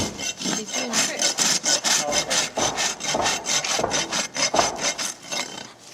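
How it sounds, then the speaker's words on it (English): A rasp files with quick back-and-forth strokes, a loud, close, rhythmic scraping that repeats about three to four times per second with no talking. "there's that rasping work"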